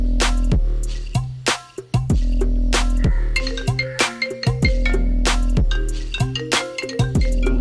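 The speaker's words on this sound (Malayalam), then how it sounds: "എടാ ജോൺസാ, നീ വിളിച്ചാ ഫോൺ എടുക്കില്ല അല്ലേ?" A mobile phone rings unanswered, its electronic ringtone melody repeating loud and close for several seconds with no voices.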